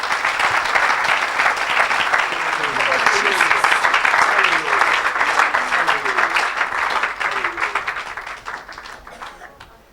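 A church congregation applauding and cheering for Jesus Christ at an evangelical service, sustained loud clapping with shouts and voices mixed in that swells and then fades away toward the end.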